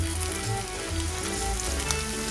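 Squid and cuttlefish sizzle and fry steadily in hot olive oil in a pan, a dense, continuous crackling hiss that stays loud and even throughout, with no talking.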